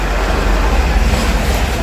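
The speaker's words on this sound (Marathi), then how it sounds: "गाड्यांचा आवाज आहे ना" Roadside traffic rumbles past on a Maharashtra street, a loud continuous low drone of passing vehicles with no clear breaks, heard up close without talk.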